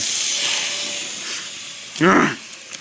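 A loud, sustained hiss of escaping steam from Southern Pacific 6380 steam locomotive runs for about two seconds, followed by a sudden louder voiced outburst.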